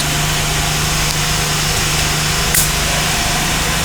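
A steady, hissing roar of a lit gas stove burner, constant and close, with a faint click partway through.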